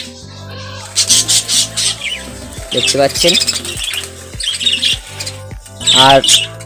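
Budgies newly released into a colony aviary squawk and chirp in busy bursts close by, while someone talks over them throughout.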